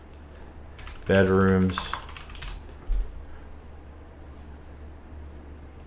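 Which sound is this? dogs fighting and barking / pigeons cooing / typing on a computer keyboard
typing on a computer keyboard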